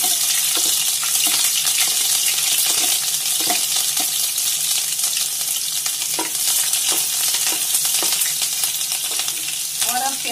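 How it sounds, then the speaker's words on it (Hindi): Green chilies sizzle loudly in a hot frying pan for a vegetable sabji, a dense continuous crackle close by with scattered stirring clinks throughout. "इसके बाद हरी मिर्च डालेंगे"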